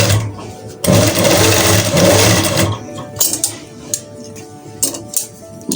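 A sewing machine stitches the waistband of a pair of trousers in a loud, close burst of about two seconds, followed by quieter clicks and handling of the fabric.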